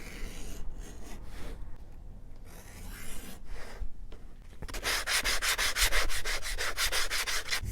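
Glued leather belt edges being sanded, a steady close rasping rub that grows louder and more rhythmic toward the end, with no voices.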